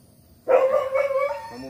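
A dog barks and howls outside a Thai dog farm, where young Thai Ridgeback puppies are kept; a loud sustained call starts abruptly and rings on, fairly close.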